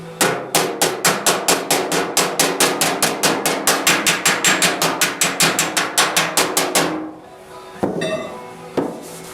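A hammer bumps a metal body panel in a fast, steady series of about thirty sharp, ringing blows, close and loud, then a pause and two or three scattered knocks.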